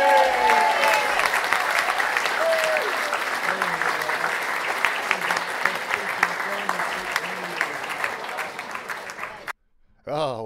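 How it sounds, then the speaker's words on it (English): An audience clapping for teachers in a pub room at a book festival; sustained applause from a small crowd with some voices mixed in, stopping abruptly near the end. "So maybe you'd be kind enough to clap your hands for teachers."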